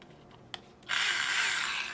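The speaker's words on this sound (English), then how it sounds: "unlock it, and we can drill" Tamiya Mini 4WD electric handy drill, a small hobby kit drill, clicks once and then starts up, whirring steadily at close range with a high-pitched motor whine.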